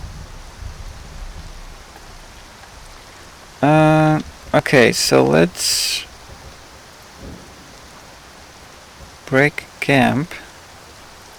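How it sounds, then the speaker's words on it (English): Steady rain and a rumbling thunderstorm in modded Skyrim form a constant hiss throughout, while a person talks over it in short bursts. "So it's like proper storm."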